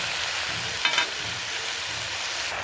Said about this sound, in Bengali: পুঁই শাকগুলো দিয়ে ভালো করে নেড়ে চেড়ে নেব।